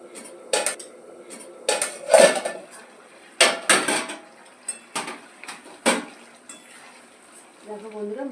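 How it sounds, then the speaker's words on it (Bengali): A metal lid clanks and scrapes off a cooking pot of simmering coriander chicken, several sharp clinks and knocks in a close kitchen, followed by a faint low sizzle. "এবার ঢাকাটা আমি খুলে"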